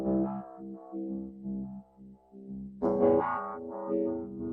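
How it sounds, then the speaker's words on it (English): Serum 2 software synthesizer patch with a resonator-like tone, ringing harmonic notes with effects, fairly faint, a few sustained phrases with a louder swell near the end, no talk. "Sounds like a resonator."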